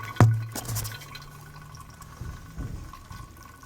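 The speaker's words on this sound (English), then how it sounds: "so to siphon the gas, what I do is I just use a simple pump like this. And you can see it, it's even flowing right now." Gasoline trickles steadily through a simple hand siphon pump while a snowblower tank is drained, with one soft knock at the start and a faint, continuous liquid flow close by.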